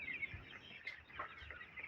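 Four- to five-day-old broiler chicks suffering from pneumonia peep faintly in a coop, a scatter of thin, high chirps over quiet background noise.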